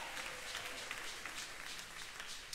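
Church congregation applause, a faint, steady patter of many hands clapping at a distance, continuous over a couple of seconds.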